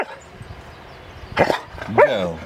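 A dog barks twice up close, two sharp loud barks about half a second apart after a quiet stretch.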